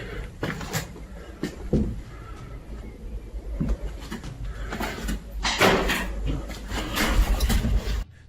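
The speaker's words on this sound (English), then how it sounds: "Somewhere nearby, a door closes all by itself" A door in an abandoned house swings shut on its own, with a few knocks and thuds amid faint room noise and bird calls; one muffled bang stands out near the start.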